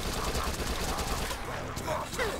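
SMG fire in Dead Nation, a continuous rattle of rapid shots that stays loud and dense throughout, with chaotic game noise mixed in.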